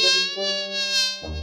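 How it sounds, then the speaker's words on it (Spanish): A fly's steady, high-pitched buzzing drones continuously at close range, wavering slightly in pitch before shifting to a lower hum near the end. "Tratando de atrapar una mosca."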